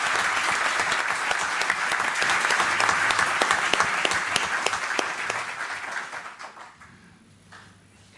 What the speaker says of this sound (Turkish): Biraz daha kuvvetli alkış lütfen.